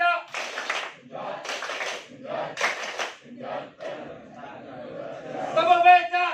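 A group of students at a high school environmental event performs the 'tepuk becak' clap chant, with loud voices chanting in rhythmic bursts alongside the clapping.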